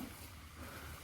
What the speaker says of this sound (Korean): 물이 많이는 안는데 여기는 조금씩 흐르네요 소리 들리죠 물 흐르는 소리